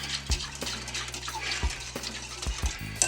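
Strawberry gelatin mix is stirred with cold water in a bowl for a poke cake, giving a soft liquid swish with a few evenly spaced low knocks.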